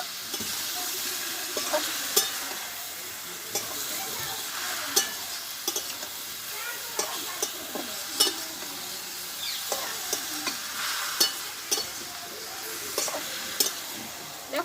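Tomatoes frying in oil for a Bengali-style tomato pickle, a continuous bright sizzle broken by frequent sharp spatula scrapes and clicks against the pan, close and steady throughout with no talking.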